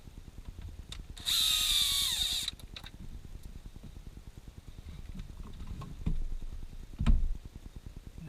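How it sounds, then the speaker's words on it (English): A power screwdriver backs Phillips screws out of a BMW E90-series cup holder in one short, loud whirring burst, with steady faint ticking underneath and a few light knocks afterward. "So our second step is to remove these two screws."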